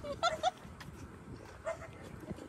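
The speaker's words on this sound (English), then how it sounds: "There's a dog." A dog barks in a video game, two or three quick yips close together followed by a single later bark, over a low murmuring background.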